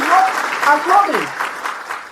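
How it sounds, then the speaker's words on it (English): A crowd's applause rises beneath a voice at a political gathering, the clapping a busy wash that stays under the clearly louder speech across the short stretch. "And I think everybody should give him a round of applause."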